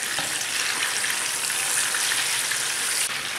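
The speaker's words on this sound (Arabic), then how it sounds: "الزيت سخن، باش نبدا بالطماطم" Tomatoes frying in hot oil in a pan, a steady, loud, close hiss and sizzle that carries on without a break.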